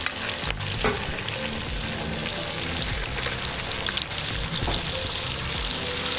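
Garlic ginger paste fries in a hot pan of oil for vegetable rice, a loud, even sizzle with crackling spits and occasional stirring scrapes, heard without talk.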